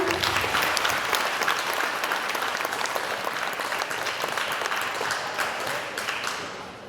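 Sustained audience applause fills a school Mr. & Miss pageant hall, a dense, steady wash of many hands clapping at close range that fades slightly near the end.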